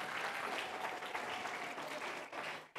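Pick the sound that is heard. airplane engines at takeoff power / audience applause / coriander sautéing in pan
audience applause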